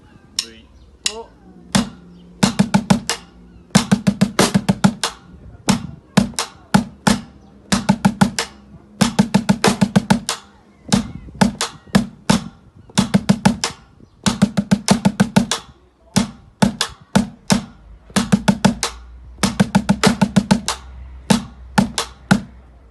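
Looped drum pattern of sharp, punchy hits repeating in steady bars, kick and snare-like strikes with brief gaps between phrases, loud and close with no voice.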